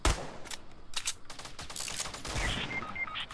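Shotgun fire in a video game, several close, sharp blasts and rapid bursts packed into a few seconds, with faint electronic tones in the background.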